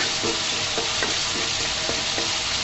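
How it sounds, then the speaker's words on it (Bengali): Gram flour (besan) dry-frying in a hot pot, a steady close hiss with a few soft scrapes and taps from stirring. There is no talking. "এখানে আমি বেসনগুলোকে ভেজে নিচ্ছি"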